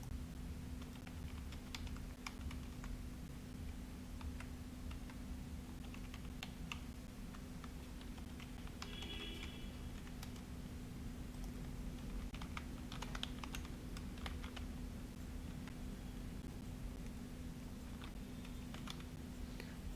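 Details are typed into a customer feedback form on a computer keyboard, making a quiet, steady run of close key clicks over a low constant electrical hum, with no talking.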